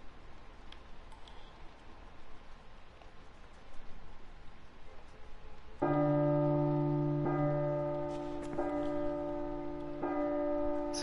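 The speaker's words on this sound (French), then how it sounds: "On est d'accord que la cloche elle est dans le jeu là." A church bell rings within a horror video game, sounding midway with a loud sustained metallic toll followed by several more evenly spaced strikes, each ringing out over faint background ambience.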